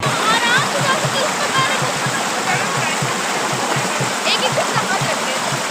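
River water rushes and splashes steadily along the bank of the Roro river in Chaibasa during a Chhath puja gathering, with faint crowd voices mixed into the constant flow.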